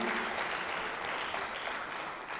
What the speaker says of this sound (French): on peut faire vraiment un grand applaudissement pour Domiti